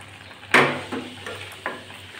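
Slit green chillies are tossed into bottle gourd greens with potato frying in a pan: three clattering stirs, a sharp one then two softer, rise over a low steady sizzle.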